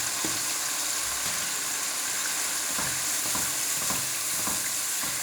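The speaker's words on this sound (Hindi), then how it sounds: "अब इसके अंदर डाल देंगे हम मटर।" Green peas tumble into spice masala frying for matar keema, setting off a steady, fairly quiet sizzle with occasional scraping stirs and soft clinks throughout.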